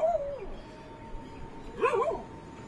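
A pied dog gives a drawn-out whining yelp, then after a pause a short, sharp bark-like yip, fairly close by, with waves on a reef in the background.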